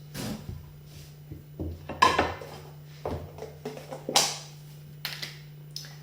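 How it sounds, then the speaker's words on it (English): A knife spreads Earth Balance soy-free buttery spread across freshly toasted bread for a breakfast sandwich. A few scraping strokes come in short bursts over a low steady background hum. "now we're going to add butter on top of my beautiful toast"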